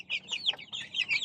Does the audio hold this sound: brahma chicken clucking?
yes